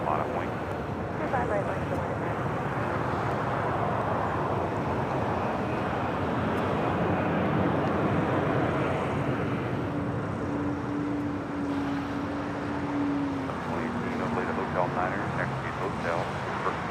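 An airliner takes off from runway 25 right at LAX, a loud sustained roar of jet engines with a rising whine, under steady talk and radio chatter throughout.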